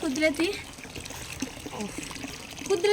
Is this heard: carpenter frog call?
no